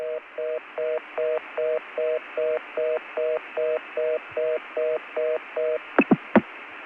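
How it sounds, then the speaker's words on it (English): On a 1980 New York CCSA access line reached through crossbar 5 switching, a steady run of about fourteen evenly spaced signaling tone pulses ends in a few sharp clicks as the number hangs up. "That was our newly found New York CCSA access number hanging up on us."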